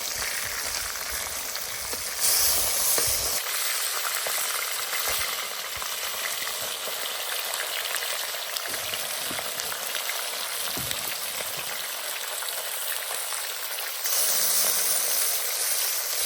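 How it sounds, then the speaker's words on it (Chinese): Fish and fish stomach pan-frying in oil, a dense, steady crackling sizzle that stays loud and close and swells louder near the start and the end, with no voices. "这种好容易煎出香味哦。"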